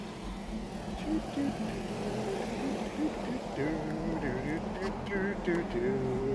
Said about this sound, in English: a lot of cars are coming.